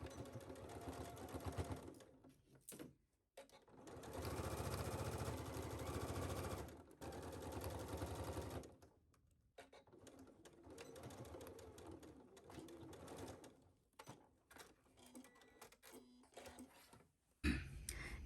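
A sewing machine runs in bursts while stitching a skirt seam at 5/8 inch allowance, with long steady whirring runs broken by short pauses and a few soft clicks and handling noises.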